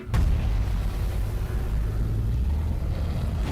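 A loud nuclear test explosion sound effect, set at Pokhran, India, in 1998, hits with a sharp onset and gives way to a deep, sustained rumble that keeps roaring to the end.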